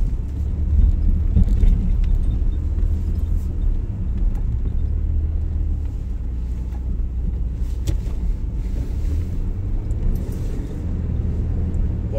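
An S-10 pickup truck plows snow with a low, steady engine rumble and scraping drone close to the microphone, with occasional knocks and bumps throughout.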